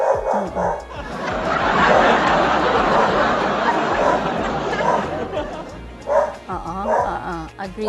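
A pet dog barks and yips repeatedly at close range, loud and excited, with some whimpering, while people chatter over it.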